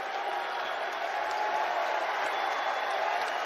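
A basketball arena crowd on its feet during a title game late in the second half, a steady dense roar of cheering and applause that holds loud throughout with no pauses.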